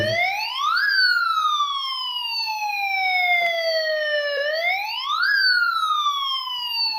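A ZAMEL CGZ-02 detector for LPG and natural gas sounds its alarm, a loud, close, continuous siren-like tone that sweeps up sharply and then glides slowly down, repeating in long cycles with no talk over it.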